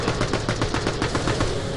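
Rapid automatic gunfire from a weapon in the video game Borderlands: The Pre-Sequel, a steady, evenly spaced stream of loud shots close up, continuous for the whole moment with no talking.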